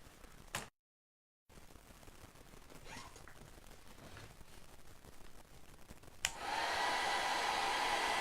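After a few quiet handling noises, a hair dryer switches on abruptly and blows in a loud, steady whoosh at close range while drying a craft box frame.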